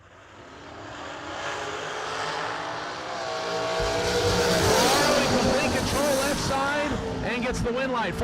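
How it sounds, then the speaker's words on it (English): A dragster launches down the drag strip at a New Year Nationals race, its engine swelling into a loud, rising roar that peaks and holds near the end, while an announcer talks over it. "494 dial-in for the Palmetto, Florida-based dragster of Matthew Ferraro."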